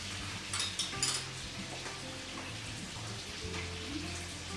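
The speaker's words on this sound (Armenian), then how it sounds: "Եվ ամեն կողմի վրա 3 րոպե պետք է հավը տապակել" Chicken pieces fry in a pan with a steady, moderate sizzle and a low background hum, plus a few brief clinks near the start; nobody speaks.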